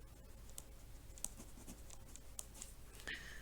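Writing on a board during a math lesson, with soft, faint scratching and clicking strokes in short bursts against a quiet room background.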